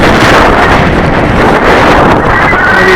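Gusty wind buffeting the microphone outdoors while a radio control model is flown, a loud continuous low roar and rumble filling the whole clip.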